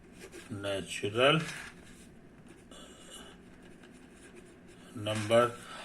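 Chalk or marker scratches across a board during a maths lecture, with short writing strokes between stretches of the lecturer's speech, close and moderately loud.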